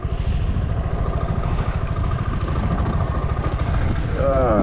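A motorcycle engine idles in winter wind with a steady, low, rapid putter running throughout, close by, while someone talks over it.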